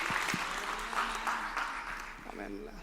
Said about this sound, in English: I thought at least some claps for that song